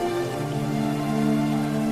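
Steady rain falling in a superhero film scene with a couple kissing on a rooftop, a constant wash of drops over a low sustained musical hum, unbroken throughout with no talking.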